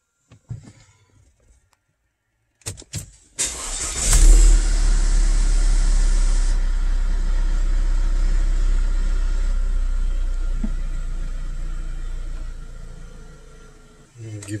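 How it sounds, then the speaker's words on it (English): An Audi 2.0T engine cranks briefly with a couple of starter bursts, then catches and settles into a steady, close idle that holds for about ten seconds before cutting off. "We're gonna start up the car."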